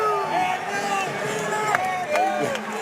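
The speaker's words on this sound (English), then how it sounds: "You hear the crowd chanting for whoever they want." An MMA fight event crowd fills the arena with loud, continuous chanting and cheering, a steady wall of voices with a few sharper shouts rising out of it.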